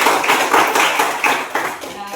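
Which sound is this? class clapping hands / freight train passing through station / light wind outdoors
class clapping hands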